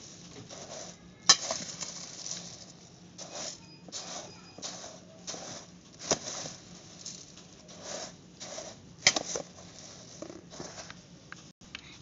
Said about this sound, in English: So now I'm mixing it